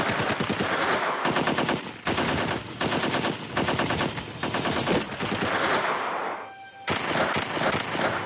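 Loud, sustained machine gun fire in rapid bursts, nearly continuous with a brief pause, close and intense video game combat.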